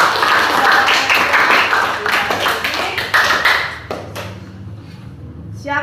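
A classroom of students claps in a burst of applause that is loud and dense at first, then thins into scattered claps and fades after about four seconds.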